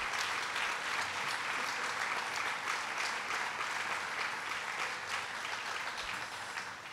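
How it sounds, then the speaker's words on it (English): A crowd at an official event in Liverpool, New York gives a long round of applause, a dense, fairly distant patter of many hands that fades slightly toward the end. "So let's give him a round of applause."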